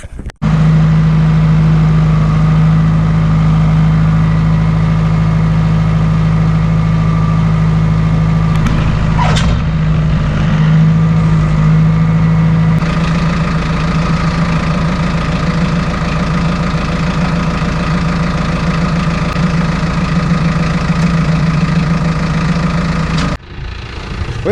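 A tractor engine idles steadily and loudly up close, a low throbbing hum with a brief clatter partway through before settling back.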